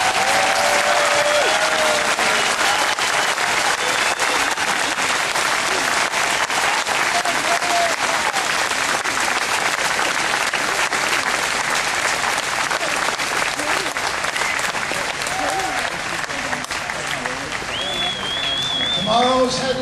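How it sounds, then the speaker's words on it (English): A large audience gives a long standing ovation, dense loud applause filling the whole stretch with a few faint voices and whoops rising through it. "Give yourself a rousing standing applause"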